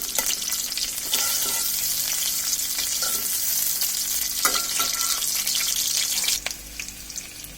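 Chopped onions sizzle and crackle steadily in a hot pan for a prawn dish, with occasional scraping stirs of a spatula, close and loud throughout with no talking.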